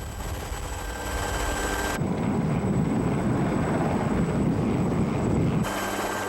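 A navy rescue helicopter hovers over a storm-battered island off Jeju during a rescue of a stranded fishing boat's crew, its loud, dense rotor and engine roar filling the scene and swelling heavier midway.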